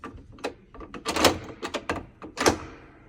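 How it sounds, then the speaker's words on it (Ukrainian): A door is slammed indoors, giving a string of sharp knocks and thuds with clattering rattles, including two heavier bangs, all close and fairly loud. "Нам треба хлопнути дверьми."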